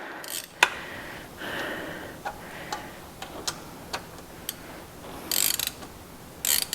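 A ratchet tightens bolts on an old Pontiac Firebird, giving a series of sharp, separate clicks and ticks spaced irregularly over a faint background hiss, with a couple of brief louder rattling bursts near the end.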